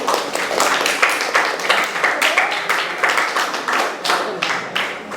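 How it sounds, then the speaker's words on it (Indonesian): Applause from a class of students for their classmates, a dense steady patter of many hands clapping throughout, fairly loud and close with no pause. "Oke, tepuk tangan dulu untuk teman-teman."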